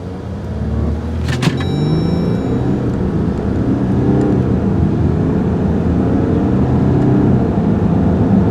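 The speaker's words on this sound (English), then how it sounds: "this 8-speed automatic fires off the shifts" A 2014 Jeep Grand Cherokee diesel with an 8-speed automatic accelerates hard. A loud, steady engine rumble and whir build from inside the cabin, with a brief high whine near the start and no talk.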